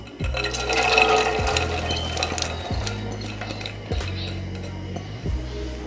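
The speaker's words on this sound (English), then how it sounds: "I'm gonna put 2 cups of water into this pot." Water pours steadily into a metal pot, a continuous splashing fill with faint clinks, close by and without talk.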